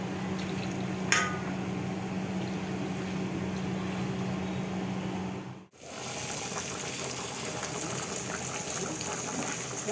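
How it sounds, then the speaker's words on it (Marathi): Hot water pours into a chicken gravy masala curry in a steady, close rushing gush that breaks off briefly midway and then resumes just as strongly, with no talking. "आपण गरम पाणी टाकूया याच्यात"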